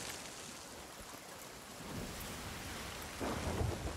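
Heavy rain pours down in a thunderstorm at sea in the video game Sea of Thieves, with a steady wash of noise and a deep rumble of thunder swelling near the end. Nobody speaks.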